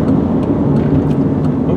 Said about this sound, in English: Oh, got a car coming.